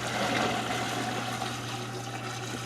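Hot sugar syrup pours from a pan over fruit for canning, making a steady, close rushing and splashing liquid sound with a constant low hum underneath and no pauses.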